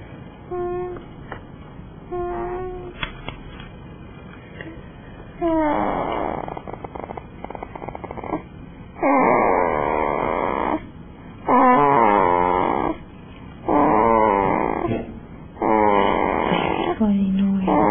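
A sleeping creature snores in repeated loud, close bursts, roughly every two seconds, each a rough rasping drone separated by quieter breathing.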